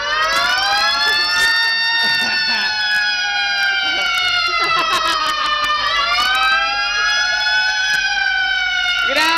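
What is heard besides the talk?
siren borrowed from a fan club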